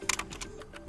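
Quick bursts of keystrokes on a computer keyboard while writing code, close and fairly quiet, a handful of light clicks in about a second with no talking.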